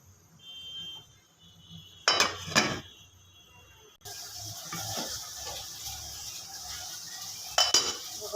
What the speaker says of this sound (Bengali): এখন আমি নাড়া দিয়ে দিব